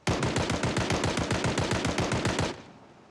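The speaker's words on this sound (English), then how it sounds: "Shooting from your vehicle is one of the safest things you can do." Rapid automatic gunfire from a vehicle in the video game Project Zomboid, a loud, evenly spaced burst of about twenty shots that stops abruptly after two and a half seconds.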